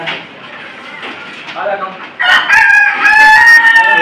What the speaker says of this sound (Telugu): ఇంకా పుంజ తెచ్చున్నా చూడు.